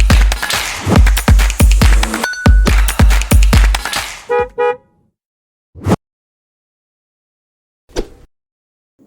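A car horn jingle opens a Klaksound podcast: a rhythmic run of loud honks and thumps, then a short tonal toot, then silence broken by a few isolated blips.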